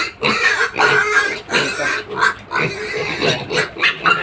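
A pen of young piglets about 39 days old grunting and oinking loudly at their last evening feeding, a dense overlapping chorus with a voice talking briefly among them.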